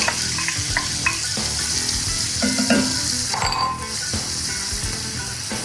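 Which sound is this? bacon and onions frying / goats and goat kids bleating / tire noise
bacon and onions frying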